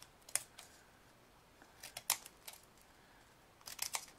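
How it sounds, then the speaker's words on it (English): Scissors snip quick, sharp cuts into a foil potato chip bag to fringe it, several small clusters of crisp close-up clicks and crinkles separated by quiet pauses. "I'm going to snip it and fringe it"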